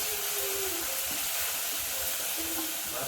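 Chili, ginger and garlic paste sautéing in a pan, a steady close sizzle and fry with no talk.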